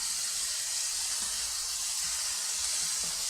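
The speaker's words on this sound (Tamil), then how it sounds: "நல்லா எண்ணெயிலே ஃப்ரை பண்ணிக்கலாம்." Soya chunks fry in hot oil with a dense, constant sizzle and hiss, close and steady with no voices over it.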